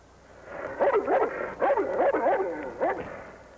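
A dog yips and whimpers in a few short bursts at moderate distance, with quiet background hiss between the sounds.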